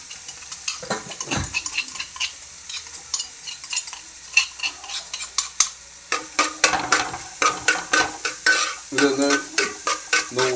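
Mustard seeds with crushed garlic and ginger sautéing in oil for a fish curry, a bright crackling sizzle with rapid metallic spatula scrapes and clinks against the pan, growing busier toward the end, with no voices.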